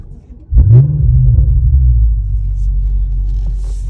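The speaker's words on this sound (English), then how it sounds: "And now starting up the vehicle, it's down here." A 2014 Audi RS7's engine cranks and catches at close range, then settles into a loud, deep, steady idle rumble with no talk over it.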